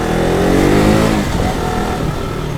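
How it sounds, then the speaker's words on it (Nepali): A KTM RC 200 motorcycle engine, freshly serviced at a local garage, runs close by in a steady, smooth hum that swells slightly before easing back. "Smooth दौड़ रहा है बाइक तो."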